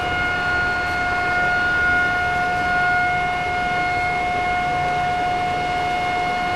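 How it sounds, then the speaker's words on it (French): A fire brigade siren wails at a fire station, a steady sustained tone holding at one pitch, loud and continuous with no speech over it. "La sirène du groupement des sapeurs-pompiers retentit."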